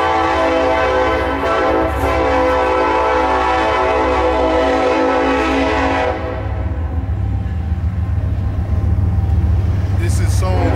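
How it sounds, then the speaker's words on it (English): A passing train sounds a loud, sustained horn for about six seconds, then its heavy rolling rumble carries on alone, close by. "I'll wait till that train go past."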